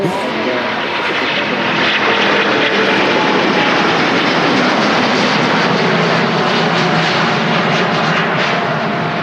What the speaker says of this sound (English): It's one of them really distinct engine sounds up there with the 757